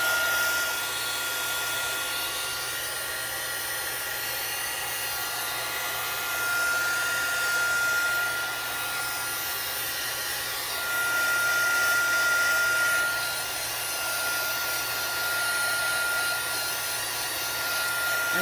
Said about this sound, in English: now I'm going to heat set it and kind of blot up some of that color